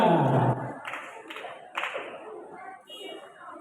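A school audience claps for a junior high storytelling contestant at a district competition, with a dense burst of applause at first that thins into scattered, fading claps.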